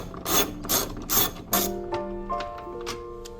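A ratchet is removing the seat bolts in a 400 hp Nissan R34 Skyline. Four quick bursts of clicking are followed by slower, fainter single ratchet clicks, all close and with no talking.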